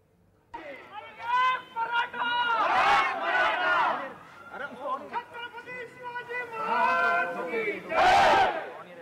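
A crowd celebrates Maratha reservation at the BJP state office, loud rhythmic chanting and shouted slogans in unison rising and falling in waves, with cheering and chatter between the chants.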